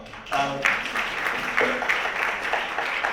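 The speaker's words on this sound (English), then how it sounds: "So, round of applause." Brief applause from an audience at an EFE Global event, a steady wash of clapping lasting about three seconds with a few voices mixed in.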